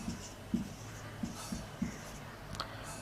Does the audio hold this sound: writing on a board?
yes